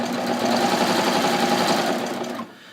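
A serger sewing machine running a 3-thread rolled hem on a dress, giving a loud, steady, close mechanical whir for over two seconds before it slows and stops.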